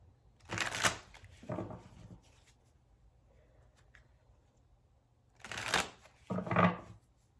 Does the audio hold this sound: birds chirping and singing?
no